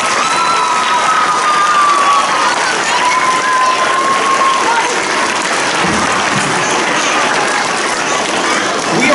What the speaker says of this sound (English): look at your teachers and give your teachers a big round of applause